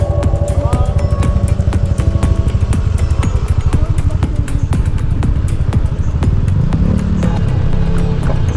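A loud, close motorcycle engine throbs continuously with a rapid rumbling pulse, rising in pitch near the end as it strains uphill under load.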